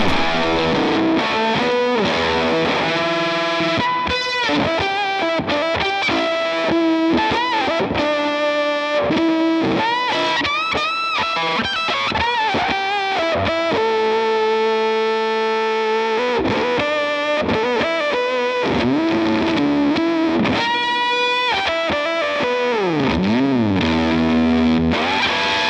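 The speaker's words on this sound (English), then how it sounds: "Take on a ring of fuzz, which is based on the Boss FZ2, a pedal that lives on my board" Electric guitar played through a Helix Native fuzz modelled on the Boss FZ2, thick distorted chords and riffs ringing continuously at loud, steady level with no talking.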